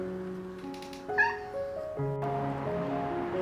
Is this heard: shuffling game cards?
no